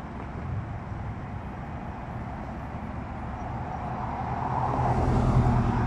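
Traffic rumble from a queue of cars inching forward at the Nogales border crossing into Arizona, with low engine hum and idling that grows steadily louder and closer toward the end.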